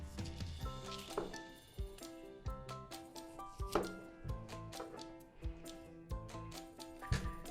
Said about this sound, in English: So it's cut into matchsticks, so we're going to go ahead and cut that up.